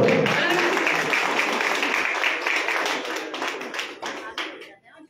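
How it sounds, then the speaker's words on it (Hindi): A crowd claps at a community gathering, a dense wash of handclaps that starts strong and gradually thins and fades to scattered claps before stopping. "ये तालियों की गड़गड़ाहट, ये तालियों की आवाज हमारी"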